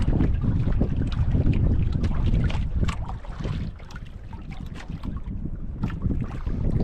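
Strong gusting wind buffets the microphone out on open water, a continuous roaring rush that eases slightly midway and then picks up again.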